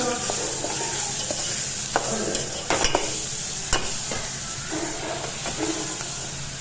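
Masala with turmeric and salt frying in oil in a pan, a steady close sizzle and hiss with occasional stirring scrapes and clinks, no voices.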